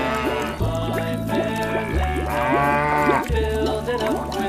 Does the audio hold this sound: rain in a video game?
no